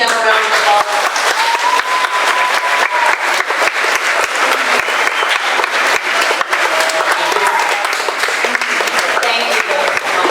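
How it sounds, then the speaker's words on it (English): Dense, sustained audience applause fills a chapel service, loud and steady throughout with many overlapping claps, a few cheers and voices blending in beneath. "Can we please give them a round of applause?"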